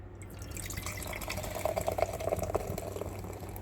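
Dos Equis beer pours into a glass in a soft, close trickle with faint bubbly splashing, quiet and steady over a low background hum.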